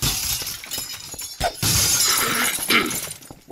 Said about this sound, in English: who's breaking glass?